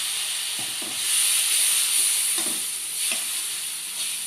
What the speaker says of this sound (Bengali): এবার আমি এর মধ্যে একটু জল দিচ্ছি, দিয়ে এটাকে আরও কিছুক্ষণ করবো।